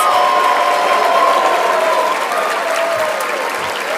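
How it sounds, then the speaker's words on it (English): Loud, sustained applause from a large audience at a national civics competition awards ceremony, honoring the center staff, a dense steady wash of clapping that holds throughout with faint crowd noise beneath. "Let's give them a huge round of applause."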